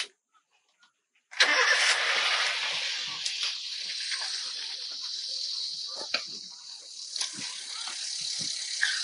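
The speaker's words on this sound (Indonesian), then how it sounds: "Nah, beginilah suara mesinnya ya." A 2011 Toyota Avanza type G cranks and fires up after a few faint clicks, then settles into a steady, smooth idle heard up close, with occasional small knocks and clatters over the hum.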